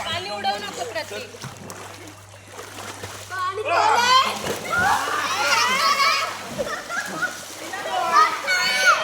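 Water splashes at Mandwa Beach near Alibaug, arriving as intermittent watery bursts close by while children chatter and call out over it.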